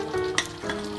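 Navratan korma gravy sizzling in the pan as chopped coriander and cut cherry tomatoes go in, a brief continuous frying hiss with a soft stir, close and steady.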